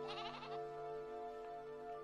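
A goat gives a short wavering bleat, faint and somewhat distant, heard over a steady humming background with no voices.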